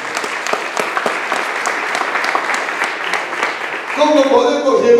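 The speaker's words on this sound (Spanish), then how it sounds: "Denle palmas al Señor." Church congregation clapping during a Spanish-language service, a crowd applauding in a quick, fairly steady patter that then gives way to louder voices speaking and calling out over the last second.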